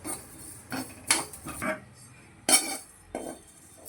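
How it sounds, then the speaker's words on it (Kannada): Cumin, fennel and fenugreek seeds being dry roasted in a pan for a Mangalorean prawn ghee roast masala, heard as a series of close, sharp metallic scrapes and clinks of a spoon against the pan in irregular bursts, with no talk. "ಜೀರಿಗೆ, ಸೋಂಪು, ಮೆಂತೆ ಇದನ್ನೆಲ್ಲ ಹಾಕ್ಬಿಟ್ಟು ಒಟ್ಟಿಗೆ ಹುರ್ಕೊಳ್ಳೋಣ."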